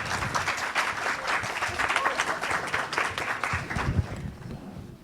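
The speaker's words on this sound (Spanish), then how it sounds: "Recibámoslas con un fuerte aplauso," Audience at a closing keynote conference session welcoming speakers with strong, continuous applause from a sizable crowd that stays dense before easing off at the end.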